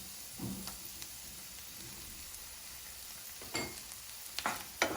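Capsicum and tomato puree cook in a pan for a corn samosa filling with a quiet, even sizzle. A few soft stirring clatters and scrapes come in, mostly toward the end.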